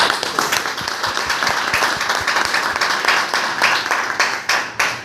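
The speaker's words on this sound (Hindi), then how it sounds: "एक जोरदार तालियां" An audience claps loudly at a talk marking India's 75 years of independence, a dense steady patter of many hands lasting throughout.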